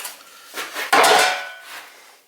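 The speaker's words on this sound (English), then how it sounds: "with a little more beating of the hammer, I got it good, but it is wavy" Hammer beating a steel car body panel on a custom rocker panel repair, a few sharp metallic clanks with one louder ringing strike, close and alone with no talk.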